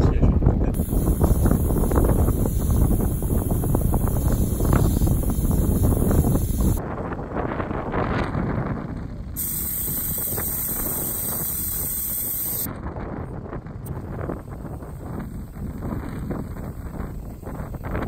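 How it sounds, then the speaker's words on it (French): Strong wind buffets the microphone at the entrance to Sahara desert dunes, a loud continuous roaring rush that dips briefly midway and then continues without letting up. "Il y a énormément de vent."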